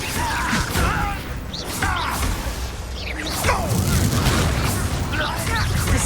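Bombarda blasting spell cast in a Harry Potter video game, a string of booming, crackling impacts and whooshes layered over continuous combat noise, with a voice speaking over parts of it.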